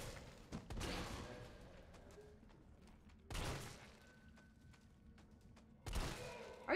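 A shotgun fires in Resident Evil 3 with three loud, booming blasts spaced a few seconds apart, each trailing off into a quieter in-game background.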